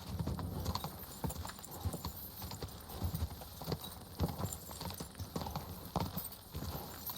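Hooves clip-clop in a steady trotting rhythm from a horse being ridden in Kingdom Come: Deliverance 2, close and continuous, with faint snorting breath in between.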